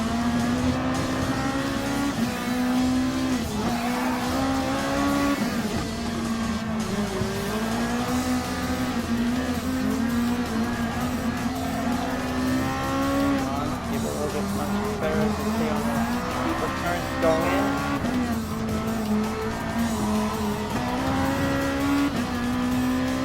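A Lexus RC F Super GT race car lapping in Gran Turismo Sport: a loud, continuous engine drone rises and falls through gear changes and corners, with occasional tire squeal, while a person talks over it.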